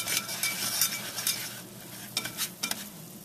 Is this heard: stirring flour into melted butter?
yes